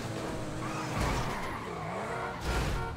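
A car engine held at full throttle in GTA 5, a loud continuous roar with a shifting pitch and bursts of tire noise, close and without speech.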